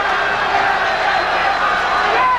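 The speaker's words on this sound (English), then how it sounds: "Crowd really into this fight, as you can hear" A packed arena crowd at the Aaron Pryor vs Alexis Arguello boxing match roars and cheers, a loud, continuous wash of voices that carries on without a break.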